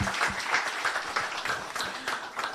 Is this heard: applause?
yes